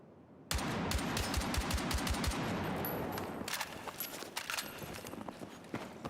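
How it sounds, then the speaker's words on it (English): Machine gun fire in Battlefield 6: a loud, sustained burst of rapid shots cuts in abruptly and hammers steadily for several seconds, then thins into scattered shots over a noisy battlefield background. "machine gun"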